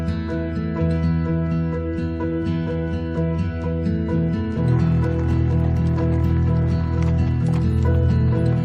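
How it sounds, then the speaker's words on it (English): Hardy Mustang horses walk along, their hooves clip-clopping in a steady rhythm over a sustained tonal background that swells louder halfway through. "we want to just use Mustangs because they're hardier than any other breed of horse."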